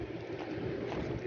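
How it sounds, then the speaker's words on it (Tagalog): Wind blows steadily outdoors on a cool early morning, a soft, muffled rushing with mild low buffeting and no distinct gusts. "Medyo mahangin mga kalan."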